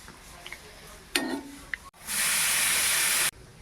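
Sweet potato pantua frying in oil: quiet clatter at first, then a loud, even burst of hissing sizzle that lasts over a second before cutting off abruptly.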